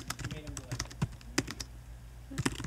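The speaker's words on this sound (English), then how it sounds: "So when I keep typing," Someone types on a computer keyboard in irregular bursts of close, crisp key clicks with short pauses between them.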